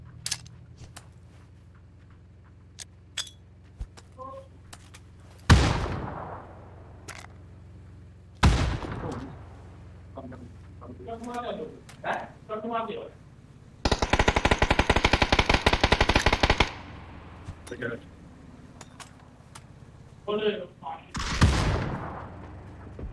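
Gunfire in PUBG during a duo match: scattered single shots, a few sharp louder cracks, and one sustained rapid automatic burst lasting a few seconds, with players talking intermittently between shots.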